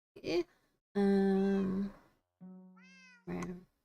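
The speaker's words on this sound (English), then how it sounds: "Yeah, you're very noisy, little kitty." Several cat meows from Minecraft cats spawning near a villager breeder: a short mew, a long drawn-out wail, then a rising meow and a brief final cry, clear and close.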